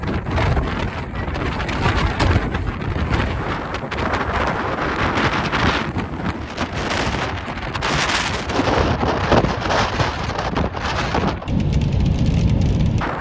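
Strong wind roars and buffets the microphone without a break on a high spot in Iceland, a loud, rough rush that surges and eases but never lets up.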